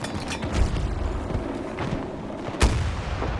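A rocket launch in Battlefield 2042 Breakthrough mode gives one sharp boom near the end of the clip, and a smaller thump comes earlier, over steady battlefield rumble and distant gunfire.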